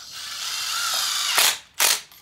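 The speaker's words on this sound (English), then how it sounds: "So 2 screws, these are 3-inch construction screws to get through our 2x2 lumber." A power driver sinks 3-inch construction screws into 2x2 lumber, with a loud rising whir that ends in two sharp ratcheting bursts as the screws seat, close and with no one talking.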